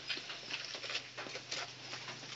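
Morning rain patters steadily and softly outdoors, a faint, even hiss of drops with small irregular taps throughout.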